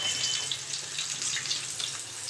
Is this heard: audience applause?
no